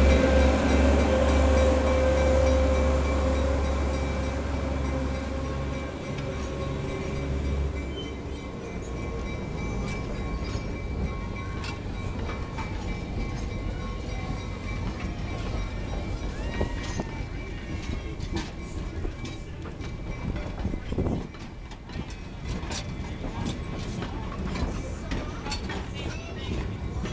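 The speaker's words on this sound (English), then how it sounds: "First dinosaur train coming" A narrow gauge train rumbles closer with clattering wheels and rising mechanical noise, preceded by a brief low horn-like tone at the start, heard from trackside at moderate distance with faint talk in the background.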